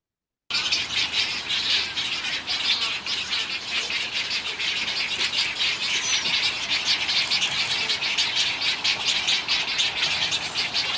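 Egret chicks call from a nest at a zoo amid a colony, a dense, continuous chorus of rapid, raspy chirps and squawks at moderate distance with no pauses.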